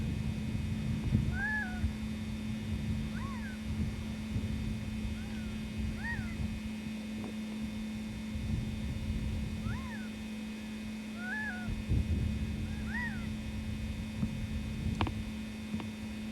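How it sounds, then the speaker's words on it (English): Soft, short chirping bird calls repeat every second or two over a steady electrical hum, faint and somewhat distant, at Montezuma Castle in Arizona. "I hear a lot of bird calling down there."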